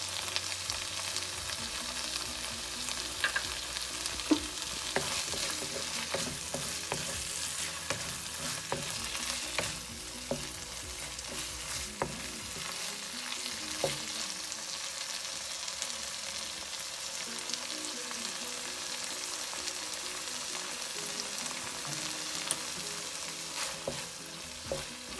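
Tripe fries with kasuri methi and garam masala in a pan, giving a long, even sizzle with frequent scraping stirs, quiet and close, with no voices.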